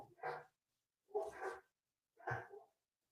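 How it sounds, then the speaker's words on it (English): A service dog reacts indoors to someone at the door with three short, soft vocal bursts spaced about a second apart, close by and quiet, with silence between them. "My service dog just recognized someone came to the door."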